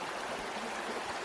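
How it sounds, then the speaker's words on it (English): A mountain creek in the North Carolina high country flows with a steady, even rushing babble, a continuous broadband water sound with no voices over it. "This is a gorgeous creek"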